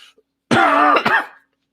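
A single harsh cough with a throaty rasp, close and loud, followed by a shorter second burst, then quiet.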